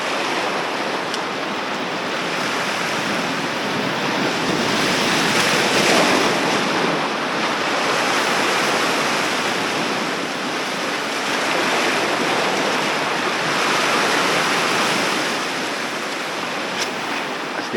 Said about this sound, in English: Water's real rough today.